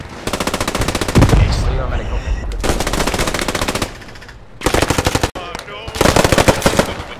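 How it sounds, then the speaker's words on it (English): Rapid bursts from an M3 grease gun submachine gun in the World War II shooter Post Scriptum, loud and close, several sustained automatic strings separated by short pauses, with voices talking between bursts. "Well, that's a grease gun, isn't it?"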